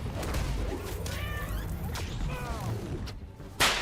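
A cat meows twice in the PS5 Spider-Man video game, each call a clear rising-and-falling tone over busy background game sound, closing with a sharp loud hit at the end.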